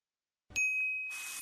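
A single bright notification-bell ding strikes out of silence, a clear sustained tone ringing for about half a second before a soft hiss takes over.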